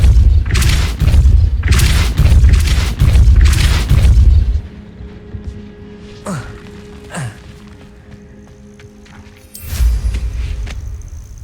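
A Depulso spell cast in Hogwarts Legacy lands as a series of deep, booming thumps, about four heavy blasts in quick succession, then quieter swishing effects and one more low boom near the end.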